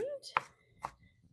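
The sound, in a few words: knife finely mincing yellow and white onions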